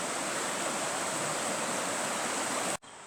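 A flowing stream, the Ruisseau de Corne near the Chavanon dam, a steady close rush of water that cuts off abruptly at the end.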